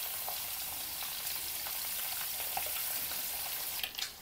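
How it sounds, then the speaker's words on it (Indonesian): Two medium fish frying in hot oil in a home kitchen, a steady close crackling sizzle with scattered pops and a brief clatter near the end, no voices. "Ini digoreng sampai dengan warnanya agak kecoklatan."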